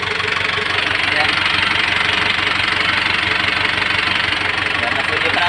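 An overhauled engine running without its muffler gives a loud, steady, rough knocking idle throughout, with someone speaking briefly over it.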